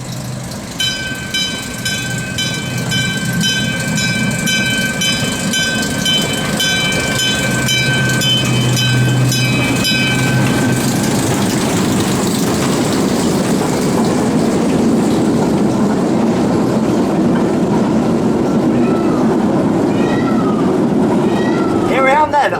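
Small park train at the Jardin d'Acclimatation rolling steadily along its track, a continuous close rumble with a tonal whine early on and people talking over it throughout.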